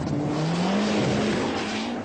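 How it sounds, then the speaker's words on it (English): A Saab Whispering Turbo rally car runs on a stage, its engine note droning steadily at moderate distance with a slowly rising pitch, over continuous broadband road and gravel noise. "Stig Blomqvist in the Whispering Turbo is looking for a good placing."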